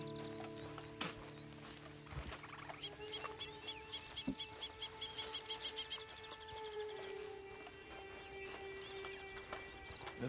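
A horse's hooves clop in an uneven walking rhythm amid outdoor ambience, with birds calling faintly in the background and a brief whinny.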